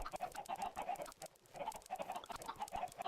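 Minecraft chickens cluck in quick, repeated bursts, a steady flock chatter with a short lull midway, fairly close and clear with no talking.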